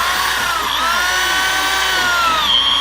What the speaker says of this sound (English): that drill seems to be working a little better